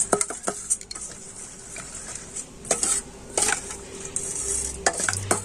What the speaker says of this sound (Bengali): তো সমস্ত কিছু এখন তেলের সাথে খুব ভালো করে মিশিয়ে নিচ্ছি